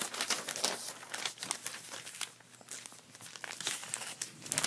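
Paper being folded close up, giving continuous crinkling and crumpling with sharp creasing crackles in an uneven rhythm, heard on its own.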